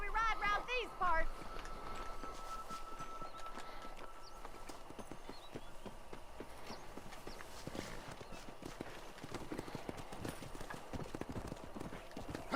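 Horse hooves gallop in Red Dead Redemption, a steady clip-clop rhythm under talking voices, with a brief neigh near the start.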